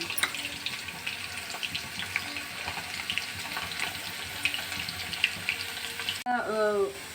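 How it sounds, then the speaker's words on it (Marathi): Crushed garlic fries in hot oil for a pickle, giving a continuous close hiss and crackle. Near the end a sudden louder sizzling burst rises over it. "ह्याच्यामध्ये आपण जो लसूण चेचून घेतलेला आहे तो टाकायचा"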